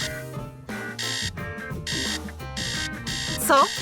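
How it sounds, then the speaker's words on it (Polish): A repeating electronic alarm tone rings in bursts over a busy musical background, ending with a short rising warble. "Roboty też mają funkcję alarmu."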